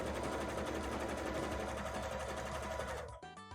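A sewing machine runs a wide, slightly lengthened zigzag stitch along a petticoat edge, a steady loud mechanical whir that stops abruptly near the end, leaving a few quieter clicks.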